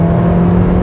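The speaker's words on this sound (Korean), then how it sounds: "4000rpm 이상으로 회전수를 쓰면은 엔진 소리가 좀 더 이제 굵어지긴 하는데 그 볼륨 자체가 좀 더 확 하고 커지죠" A 2022 Kia K3 (Forte) with a 1.6 gasoline engine revs under acceleration at high rpm, a loud, steady, deep engine drone with a strong low hum, heard briefly from inside the moving car.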